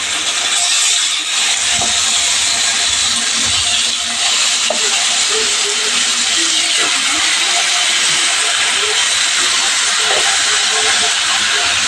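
Chicken added to a hot pan with ginger-garlic paste for chicken curry, giving a loud, steady, hissing sizzle that stays close and constant, with faint clinks underneath.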